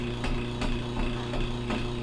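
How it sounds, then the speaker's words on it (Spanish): A running rotating-machine test rig hums steadily while a hammer strikes it about five times in an uneven rhythm, each blow a brief, light knock over the constant drone. "Le doy los golpes con el martillo."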